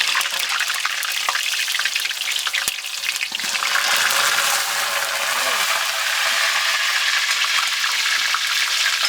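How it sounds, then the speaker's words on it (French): Potatoes frying in a pan for a lamb briani, a steady loud sizzle that crackles continuously throughout, with a brief clatter partway through as they are stirred. "Je mets les pommes de terre. C'est frire les pommes de terre."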